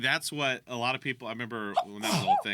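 A person sneezes once, a sharp burst of breath near the end of a stretch of casual conversation, with voices talking before and around it.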